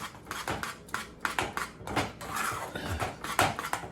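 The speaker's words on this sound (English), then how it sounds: "And then you just stir the butter in." A spoon scrapes and knocks against a pot while regular butter is stirred into grits, producing soft, irregular clinks and scrapes at close range with no talking.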